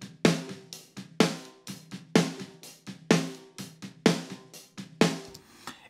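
Snare drum hits sent through a parallel compression chain with a limiter and SSL channel strip, six evenly spaced punchy strikes with bright crack and long sustained, pumping ring-out between each.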